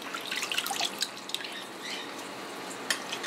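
Curds and whey pour through a cloth-lined colander while making cheese from cow's milk, giving a steady close splashing and trickling with scattered drips and no talk.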